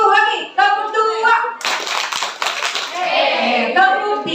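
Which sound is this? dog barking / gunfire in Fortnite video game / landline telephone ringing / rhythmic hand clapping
rhythmic hand clapping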